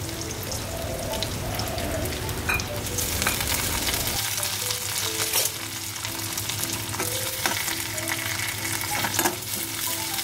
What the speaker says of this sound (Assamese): বুট দাইলখিনি দি পেলাই এনেকৈ অকণমান সময় ভাজি লৈছোঁ